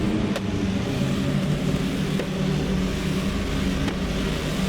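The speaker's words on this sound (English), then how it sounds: "Today we're going to take the Group 5 Corvette for a spin in RaceRoom Racing Experience." The Group 5 Corvette race car in RaceRoom Racing Experience drones steadily at high revs, a loud, continuous simulated engine roar with faint periodic clicks, sustained throughout without any talking.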